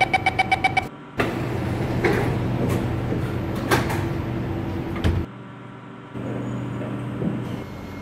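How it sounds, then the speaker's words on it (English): Sliding doors on an SMRT C751B metro train in the OpenBVE simulator: a series of quick warning chimes, then a loud rumbling whoosh as the doors close, followed by a steady interior hum and a dull thud. "Doors are closing."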